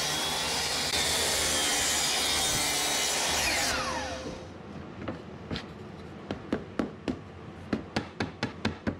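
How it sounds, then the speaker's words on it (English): A track saw cuts through a large wooden bed frame panel with a loud, steady whine for about four seconds, then spins down, followed by a run of sharp, evenly spaced knocks. "So I used the track saw on the big panel and then just my miter saw on the other smaller panels."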